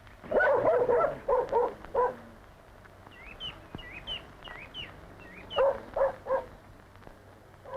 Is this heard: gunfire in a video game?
no